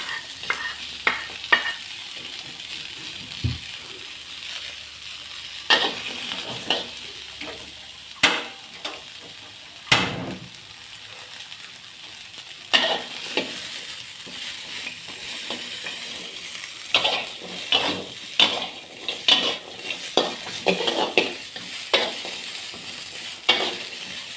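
Leftover dishes stir-fried in a wok, a continuous sizzle broken by repeated scraping and clanking of the spatula against the pan, close and fairly busy, no talking.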